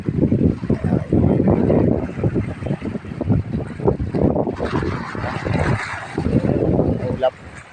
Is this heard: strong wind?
yes